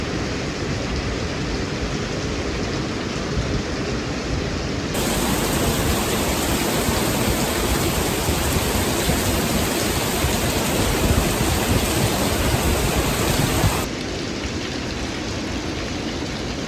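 Steady, broad rain falling outdoors at school dismissal time, a dense continuous wash that grows noticeably louder in the middle stretch before easing back, with no voices heard.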